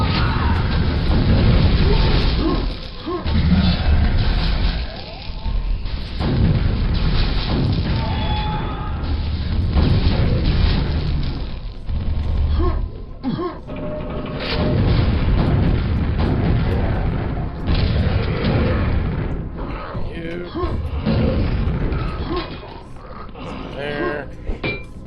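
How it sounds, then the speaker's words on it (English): Rocket launcher explosions in Quake: heavy booming blasts and crashes that rumble almost continuously, with someone talking over the action. "Oh, rocket launcher."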